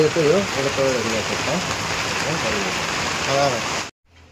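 Heavy rain falls in a steady, broadband hiss and patter that covers the whole clip before cutting off abruptly at the end, with a person talking over it.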